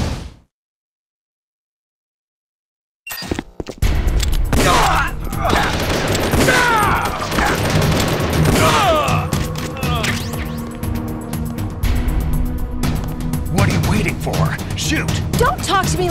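Gunfire from the video game Metal Gear Solid: The Twin Snakes, a dense run of loud repeated shots and impacts that begins abruptly after a few seconds of silence and carries on steadily, mixed with game effects.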